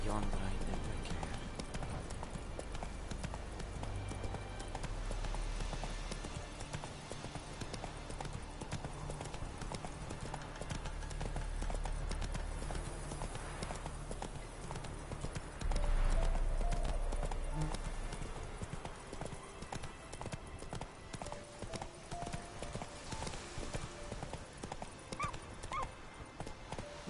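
Horse hooves clip-clop steadily on the ground in The Witcher 3 open-world game, a continuous rhythmic trot over low ambient game music, with someone talking over much of it and a brief dog-like whimper.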